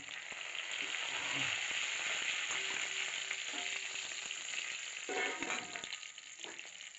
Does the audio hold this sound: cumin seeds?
yes